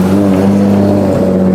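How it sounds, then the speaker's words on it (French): Toyota Chaser drift car at Ebisu, a steady loud engine drone with strong low harmonics, revving slightly and close by throughout, no talk. "Clément, il sort la Chaser."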